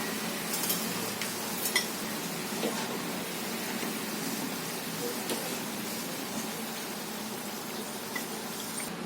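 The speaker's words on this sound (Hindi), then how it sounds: "पकौड़े जब अच्छी तरह फ्राई हो जाए तो अब इन्हें हम निकाल लेंगे" Potato keema pakoras deep-fry in oil, a constant dense bubbling hiss dotted with small crackles and a few light knocks, with no voice over it.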